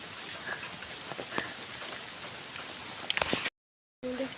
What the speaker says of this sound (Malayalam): ಈ ಜಾಗನಲ್ಲಿ ನೋಡಿ ನೀರು ಬೀಳ್ತಾ ಇದೆ